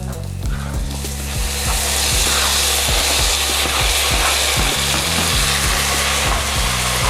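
Two diced potatoes tipped into a sizzling pan of softened tomato sabji, giving a loud, steady frying hiss with rhythmic scraping and knocking throughout.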